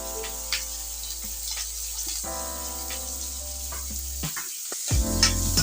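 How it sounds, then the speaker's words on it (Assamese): Sliced onion hits hot oil seasoned with five-spice, cumin, coriander and red chili for a taro curry, a crackling sizzle with intermittent stirring scrapes and a low electrical hum beneath. "তাৰপিছতে আপোনাৰ পিঁয়াজটো মাৰি দিলোঁ পুৰা।"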